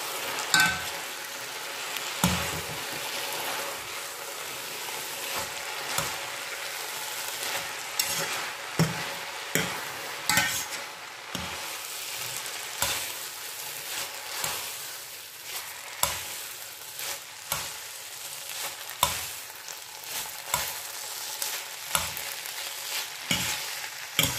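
Chicken and noodles fry in a pan with a steady hiss, punctuated by regular scraping and clacking stirs of a utensil against the pan, close and continuous without any voices.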